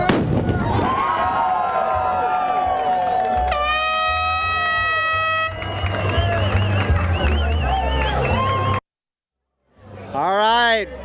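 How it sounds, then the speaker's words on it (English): A cannon blast booms out at Dolphin Island during the 86th annual Alabama Deep Sea Fishing Rodeo. It is a loud outdoor burst amid crowd noise, bright whistling tones and people talking, with a short silent gap near the end. "there you hear it, the cannon blast here at Dolphin Island."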